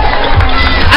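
Crowd at the 2016 Carrera Hormiga race in Calabazo, a loud, close, muffled roar of cheering and clapping filling the whole short moment.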